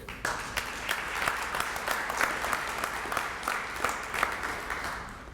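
A room of people at a Bicentennial Black Honors press conference applauds Stop Violence Pittsburgh, a steady, even wash of many hands clapping at moderate loudness for over five seconds with no voices over it.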